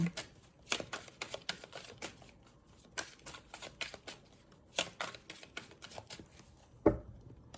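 Tarot cards being shuffled by hand make quick papery riffles and soft slaps in irregular bursts, close and crisp, with one sharper snap near the end.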